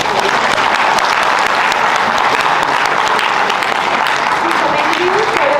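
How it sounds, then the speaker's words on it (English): Loud, dense audience applause fills a hall at an entrepreneurship summit as the crowd claps for the presenters, steady and sustained throughout with no pause. "Let's have a thundering round of applause for all the presenters."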